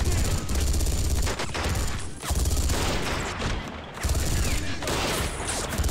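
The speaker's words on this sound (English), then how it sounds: "These machine gunners are trying their best." Sustained machine-gun fire in the video game Army Men: World at War, a dense, loud, near-continuous rattle of rapid bursts with booms mixed in, dipping only briefly at a couple of points.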